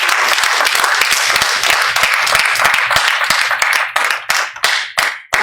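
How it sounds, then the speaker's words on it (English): Church congregation clapping their hands together in dense, sustained applause that fills the room, then breaks into scattered, fading claps toward the end. "Clap your hand for Jesus."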